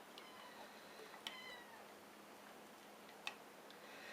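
A kitten, one of four born to a rescued stray, gives two short, faint meows about two seconds apart in a quiet indoor room.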